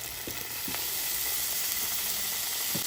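Potatoes sizzling in a pan over low heat as butter goes in, a soft continuous hiss and crackle with a few light taps, fairly quiet and steady.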